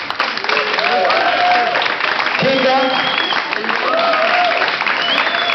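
A crowd at a live show with a band and dancers applauds for a dancer, the dense clapping and cheering lasting the whole stretch while a host calls out over it and a few tonal sounds drift through.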